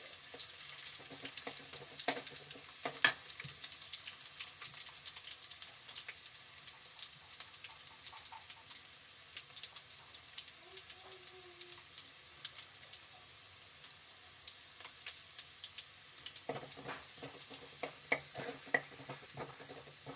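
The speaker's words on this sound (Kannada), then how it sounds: "ಸ್ವಲ್ಪ ಫ್ರೈ ಆಗಿದೆ, ಚೆನ್ನಾಗಿ ಸ್ವಲ್ಪ ಫ್ರೈ ಆಗಬೇಕು. ಕಂದು ಬಣ್ಣಕ್ಕೆ ತಿರ್ಕೊಂಡು ಬೆಳ್ಳುಳ್ಳಿ" Garlic frying in a pan for paneer fried rice, a steady soft sizzle with occasional stirring clicks and scrapes, close and continuous with no talking.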